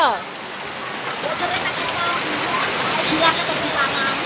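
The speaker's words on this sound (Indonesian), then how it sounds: "Ayo masuk ayo hujan hujan" Steady rain falling outdoors, a dense, even hiss of drops with no break, fairly loud throughout the short stretch.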